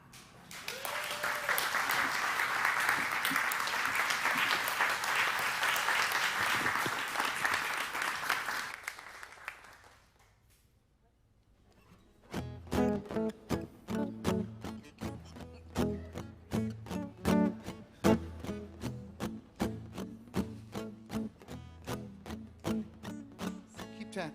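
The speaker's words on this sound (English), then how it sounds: "Keep clapping your hands." Church congregation applauding at a spiritual service, a dense wash of clapping lasting several seconds before fading, then rhythmic music with sharp beats takes over.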